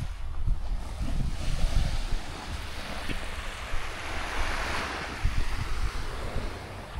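Surf washes steadily onto a clear-water tropical shore where cruise ships sit offshore, a continuous broadband roar with gusts of wind buffeting the microphone and no talk.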